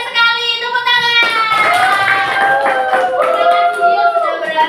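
Applause from a school class audience after a student answers correctly, a burst of hand clapping under an adult's voice and children's chatter.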